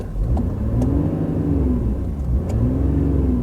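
A Volkswagen Phaeton's diesel engine revs close by, its pitch rising and falling in smooth sweeps over a steady low rumble, loud and alone without talk.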